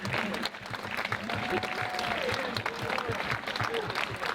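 Applause from a dinner crowd honoring doctors and medical staff at a cancer charity event, a steady dense wash of clapping lasting throughout, with some voices and cheers mixed in.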